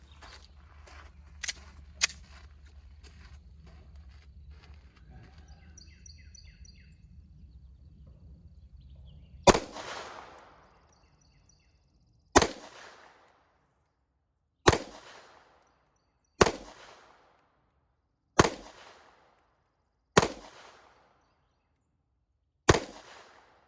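Wilson Combat EDC X-9 pistol fired at an outdoor range during a 10-shot group at 25 yards: a few light taps first, then seven loud, sharp shots about two seconds apart, each ringing out briefly.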